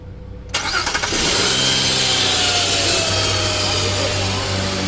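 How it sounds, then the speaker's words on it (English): A 2007 Nissan Quest minivan, just refuelled after running out of fuel, cranks briefly and then fires up into a loud, steady idle, heard up close. "Go ahead, crank it. Crank it. I bet you it's gonna start."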